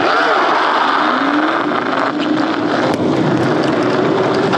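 An electric scooter's motor (Halo Knight T108 Pro, 6000W, 60V battery) whines and rises in pitch over a loud rushing wind and rolling noise, close and steady, as it speeds up with the wheel spinning.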